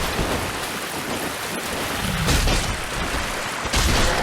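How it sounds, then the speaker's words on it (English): A lightning attack effect from the video game Dark Souls fills the clip: a loud, sustained crackling hiss like heavy rain, with sharper, brighter bursts swelling partway through. "It sounds like Final Fantasy VIII lightning."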